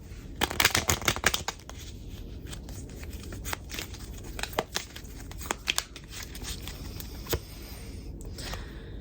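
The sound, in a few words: shuffling a deck of cards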